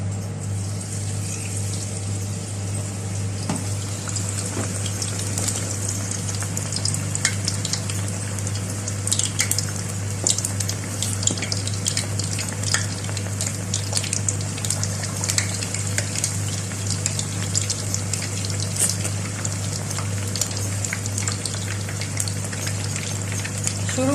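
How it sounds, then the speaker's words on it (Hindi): Marinated chicken frying in hot oil, a dense continuous crackling sizzle with sharp pops throughout, over a steady low hum. "तो चलिए आइए मैं ऑयल में अब डालती जाती हूँ।"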